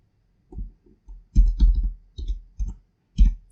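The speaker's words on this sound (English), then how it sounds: "I will type" Typing on a computer keyboard, close and fairly loud, in short irregular clusters of crisp clicks separated by brief pauses, with no voices.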